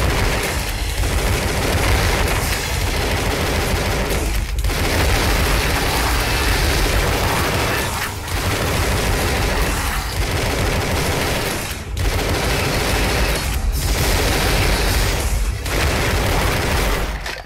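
Rapid-fire gunshots in Tesla vs Lovecraft form a loud, unbroken barrage of shots and booms, with brief dips every couple of seconds in a steady, relentless rhythm.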